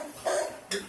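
A dog lets out two quick, sharp barks in close succession, short and moderately loud, with nothing else around them.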